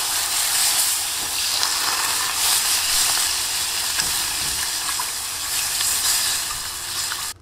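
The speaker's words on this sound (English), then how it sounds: "now you want to slowly start adding in the water and give that a mix as well" Water whisked into flour in a hot pan, a loud bright sizzle and hiss that carries steadily for several seconds, with faint whisk scrapes, then cuts off at the end.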